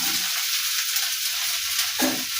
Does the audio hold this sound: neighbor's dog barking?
no